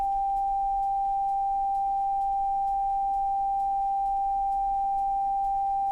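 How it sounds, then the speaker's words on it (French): A steady pure sine tone holds one pitch without change, clean and continuous for the whole stretch, with nothing else audible. "C'était la tonalité pure"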